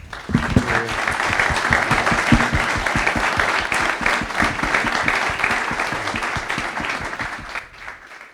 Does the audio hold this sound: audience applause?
yes